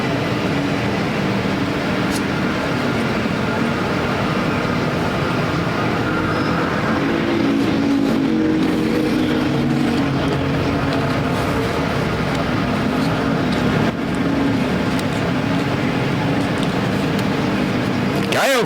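Factory Stock cars run a heat race at Perris Auto Speedway's dirt oval, producing a dense, steady engine roar that holds for the whole stretch, with no speech over it.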